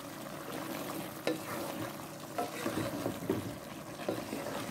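A spoon stirs vegetables and unripe plantain in a frying pot, making soft scraping strokes and wet shuffling over a steady close sizzle.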